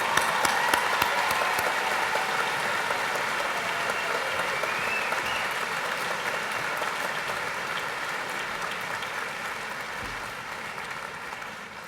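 A large commencement crowd at Millersville University's winter ceremony applauds the graduates, a dense, even wash of clapping that stays steady and fairly distant for the whole stretch.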